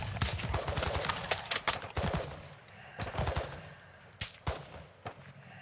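Call of Duty Modern Warfare II DMZ gunfire: rapid automatic bursts crackle in quick succession, then trail off into a few sharp, separate shots.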